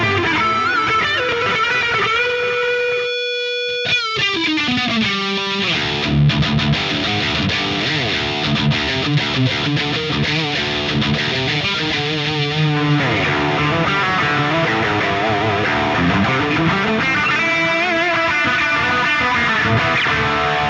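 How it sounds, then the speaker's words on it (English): An electric guitar played through a Harley Benton DNAfx GiT Pro with delay and reverb and a mid-focused tone, with sustained chords and bends trailing into repeating echoes, loud and continuous for about twenty seconds. "Now there is the delay, there is the reverb, and I have more mid-focus sound."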